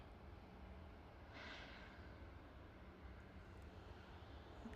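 A distant aircraft engine at Manchester Airport drones steadily and faintly, with a brief rising whine partway through as the engine spools up on start.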